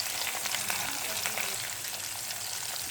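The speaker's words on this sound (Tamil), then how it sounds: "நல்லா பொரியுது." Curry leaves frying in hot oil for a dried fish thokku, giving a continuous, even sizzle that fills the clip, close and moderately loud, with no talking.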